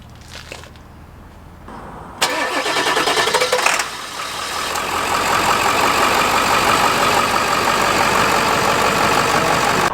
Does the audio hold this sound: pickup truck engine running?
yes